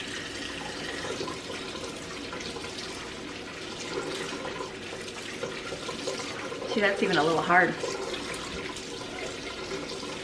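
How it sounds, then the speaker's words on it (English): Cold tap water runs steadily over cooked pasta in a pot, a continuous rushing splash through the whole stretch, with a person talking over it. "I'm just gonna rinse these really good, and I'm gonna keep them in this pot, but I'm gonna use cold water"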